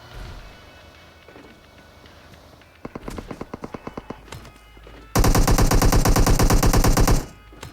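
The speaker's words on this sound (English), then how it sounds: "Chloe's shooting some shots back" Gunfire in a battle royale video game: quiet ambience, then a run of evenly spaced single shots, followed by a loud, dense burst of rapid automatic fire lasting about two seconds before cutting off.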